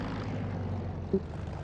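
A propeller aircraft engine idles at low throttle in the DCS flight simulator, a steady low drone with a continuous hum that holds evenly throughout, with one brief soft bump partway through.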